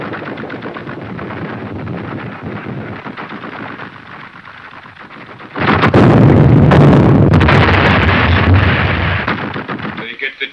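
Artillery shell fire and machine-gun bursts in a 1933 adventure film serial battle scene: a rattling barrage under dialogue, then a loud sustained roar of explosions and gunfire that fades near the end.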